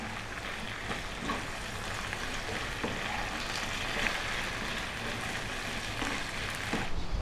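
Onion and salt frying in a pan over medium heat for an Indian mushroom potato curry, giving a steady, dense sizzle with a few faint stirring scrapes throughout and no voices.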